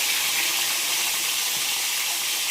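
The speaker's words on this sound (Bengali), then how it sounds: "এখন টকবক করে তেল ফুটছে।" Fish frying in bubbling hot oil gives a loud, continuous sizzle and crackle, steady and close, with no voices.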